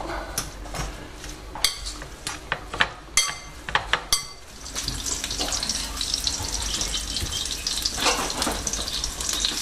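Tap water runs steadily over minced beef and poultry in a kitchen sink, a continuous hiss that builds after a few sharp clinks of dishes and utensils at the start.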